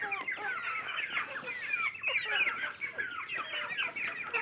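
Busy chorus of chickens clucking and chirping, many birds at once, close by and continuous without pause.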